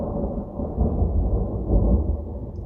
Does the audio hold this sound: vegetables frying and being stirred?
no